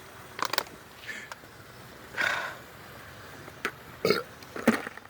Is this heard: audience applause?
no